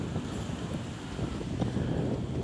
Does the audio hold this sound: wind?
yes